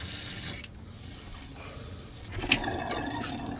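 Water gushes and splashes steadily out of a clear tube on a 2005 Fleetwood Discovery motorhome with a faulty heater, a continuous wet rushing that swells briefly near the end, with no talking.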